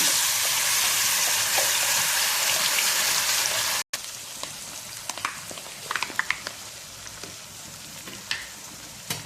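Coconut chutney, with a little fenugreek, hits a hot pan in a loud, dense sizzle that stops abruptly, followed by quieter scattered crackles and pops.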